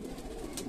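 Jhumke wale (earring) pigeons coo in a low, continuous murmur close by, a soft steady hum of several birds with no break across the brief moment.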